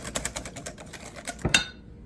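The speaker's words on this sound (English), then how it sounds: "Then we're going to whisk in the vanilla, the almond." Eggs being whisked with vanilla and almond extract in a bowl for a blackberry clafoutis batter, heard as a quick run of light rhythmic clicks and taps, ending in a brighter clink and then silence.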